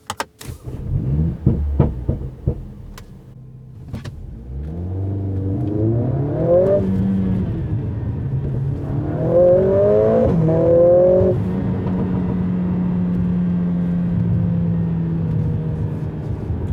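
A 2020 Mercedes CLA45 S AMG in race mode starts with a few sharp clicks, then the engine revs up hard through rising gear pulls and settles into a loud, sustained drone heard from inside the cabin.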